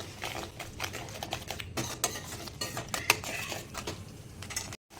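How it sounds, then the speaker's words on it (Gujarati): Pasta with masala being stirred into tomato gravy: quick, close scraping and clicking of a spoon against a pan, in irregular taps and scrapes. "થોડો આપણે પાસ્તા મસાલો ઉમેરી દઈશું અને ત્યારબાદ સારી રીતે મિક્સ કરી લઈએ"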